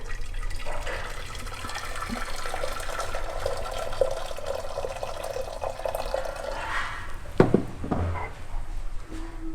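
Hot water poured into a pot for homemade chicken soup, a steady watery rush for several seconds followed by a couple of clanks, alone without talk.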